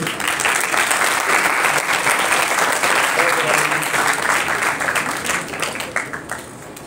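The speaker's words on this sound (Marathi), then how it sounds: "टाळ्या हा चालू राहायला पाहिजे." A hall audience at a charitable trust's SSC practice exam ceremony applauds to welcome a guest, dense loud clapping that holds steady then thins and tapers toward the end, with talk faintly mixed in.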